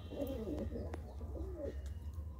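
An old hen pigeon and others perched on rods in a loft give soft rolling coos, two short bursts close by, with light clicks and a steady low hum behind them.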